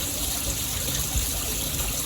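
Water trickles steadily in a crocodile enclosure at a lion safari park, a continuous close wash of running water with faint low rumble beneath and no talk.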